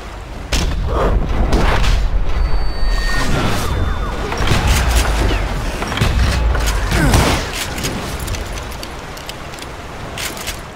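Enemy gunfire in a Wild West shooter, Call of Juarez Gunslinger: loud, close bursts of shots and booming impacts crowd together over several seconds, then thin out into scattered cracks and rumble.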